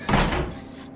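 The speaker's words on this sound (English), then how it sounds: "Close the door." A door slams shut in the horror video game Outlast, a single heavy thud with a short rumbling decay, close and loud.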